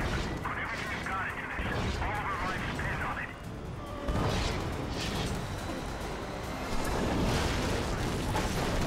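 Heavy gunfire and blasts pound around the ordnance in Prototype 2, a dense, continuous barrage of shots and explosive booms mixed with voices talking over the combat.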